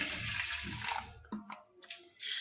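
Water pours into a pressure cooker while chana dal is prepared for a Bharata Hunnime festival dish, a brief rushing splash in the first second followed by a few short drips and trickles.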